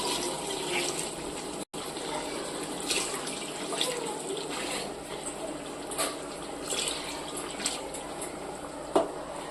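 A steady rush of water pours continuously into a cooking pot for several seconds, close and fairly loud, with a brief dropout near the start.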